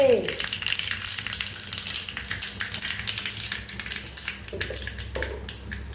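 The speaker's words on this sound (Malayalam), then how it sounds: "എണ്ണ ചൂടായി അങ്ങനെ നമ്മൾ കടുകിട്ടു ഇതെടുത്തിട്ടാ" Mustard seeds crackle and pop in hot oil in a pan, a close, busy sizzle of irregular sharp spluttering bursts with a few louder clattering moments.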